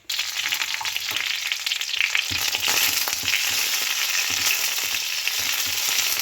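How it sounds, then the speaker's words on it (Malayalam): Dried red chillies and curry leaves sizzle in hot coconut oil with popped mustard seeds, a loud, continuous close frying hiss with light crackles and stirring scrapes and no talk. "കടുക് പൊട്ടിക്കഴിയുമ്പോൾ വറ്റൽമുളകും കരിവേപ്പിലും ഇട്ട് കൊടുക്കാം"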